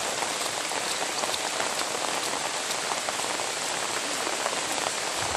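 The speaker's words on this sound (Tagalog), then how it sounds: "Yan guys, malakas yung ulan." Heavy rain pours down steadily on a rural cornfield, a dense, unbroken hiss of drops hitting leaves and surfaces close by, with no voices.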